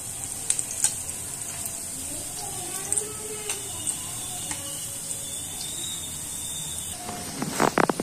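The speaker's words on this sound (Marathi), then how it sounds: "आता चांगला तांबूस रंग येईपर्यंत आपल्याला भजी तळून घ्यायची आहेत" Crab-style onion bhaji sizzles steadily in hot oil, a continuous close frying hiss with a few soft clinks and a brief clatter near the end.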